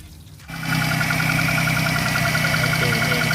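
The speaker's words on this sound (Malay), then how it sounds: "ni kita start engine" A Perodua Kancil engine cranks and fires up after a brief quiet start, then idles steadily and loudly with a constant mechanical hum during a radiator and thermostat flush.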